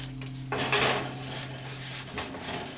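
An oven door opens with a clank, then a St. Louis style pizza is slid onto a hot pan with metallic scraping and rubbing, close and moderately loud.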